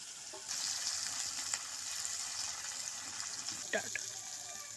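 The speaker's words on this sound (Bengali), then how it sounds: "সব মাছগুলো একবারে দিয়ে ভেজে নেব" Bata fish frying together in hot oil, a dense, steady sizzle and crackle close up after a quiet opening, broken by a few sharper spatters and a brief clatter near the end.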